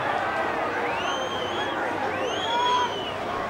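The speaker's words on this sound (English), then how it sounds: "the crowd in the main stand not appreciating that call quite so much" A football crowd in the main stand at an A-League match between Perth and Newcastle reacts with a steady, loud, disgruntled roar after an offside call. A rising swell of jeers and shouts follows, and a commentator's voice can be heard over it.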